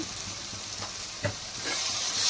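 Green chilies and spices fry in hot oil for Punjabi-style baingan bharta, giving a steady close sizzle with a few soft stirring scrapes and a rising hiss toward the end.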